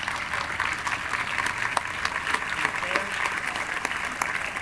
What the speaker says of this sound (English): would you join me giving them a round of applause?